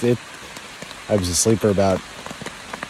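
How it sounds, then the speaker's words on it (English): Rain pattering steadily on a tent in upstate New York during a motorcycle camping trip, a soft continuous patter beneath someone speaking in the foreground. "It is raining."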